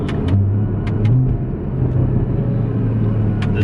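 A Porsche engine rumbles with a low, steady hum that swells briefly as it downshifts, heard from inside the car under light clicks, with no talking.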